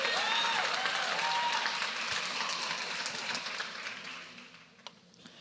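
A church congregation applauds in a steady, dense wash of clapping that gradually thins and fades toward the end, with no voices standing out.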